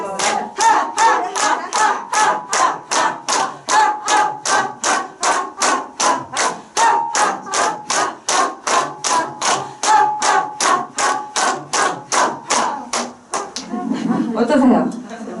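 An audience at a lecture claps palms together in a steady, even rhythm, dozens of crisp, evenly spaced claps close up, ending in a burst of laughter and voices.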